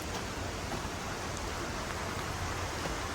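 Steady rain falls at a rock ledge outdoors, a dense, even hiss that continues unbroken and fairly soft throughout, with no voices.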